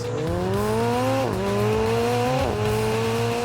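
A McLaren 720S sports car accelerates hard, its engine note climbing steadily through two quick gear changes, loud and close with a touch of tire noise, no talking over it.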